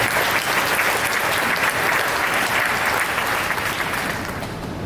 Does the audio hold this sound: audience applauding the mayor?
yes